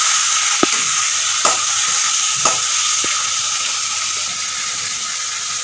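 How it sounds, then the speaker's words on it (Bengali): Tomato pieces frying in raw mustard oil, a loud steady hiss with a few sharp taps of a utensil against the pan. "তেলের মধ্যে টমেটোটা দিয়ে দিলাম।"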